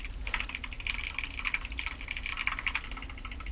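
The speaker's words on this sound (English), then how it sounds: "I can listen to those keys clicking." Mechanical keyboard keys clatter in quick, irregular bursts of typing, crisp and clicky at moderate volume, continuous across the moment with no talking.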